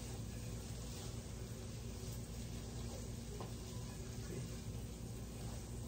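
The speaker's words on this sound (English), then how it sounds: "we're going to saute them up" Onions and peppers sauté in a pan with a soft, constant sizzle, a low even hiss that stays steady throughout with no voices.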